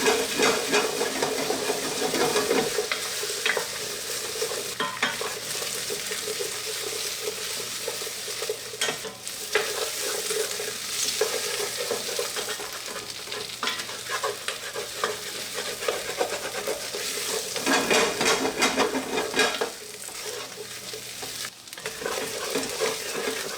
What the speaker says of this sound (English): Turn the heat down to medium